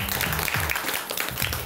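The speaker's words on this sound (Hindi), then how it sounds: "बहुत बहुत तालियां एक रला।" A studio audience claps for a winning contestant on a Bhojpuri television game show, a dense, loud, continuous wash of applause lasting under two seconds with no talk over it.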